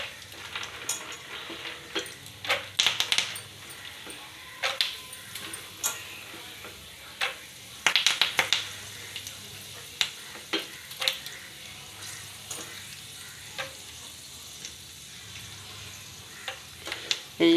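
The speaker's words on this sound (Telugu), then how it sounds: "ఇప్పుడు వేరుశనగ పలుకుల్ని వేపుకుందాం ఫ్రెండ్స్." Peanuts frying in a pan, a soft continuous sizzle broken by frequent clicks and scraping stirs, fairly close and moderately quiet.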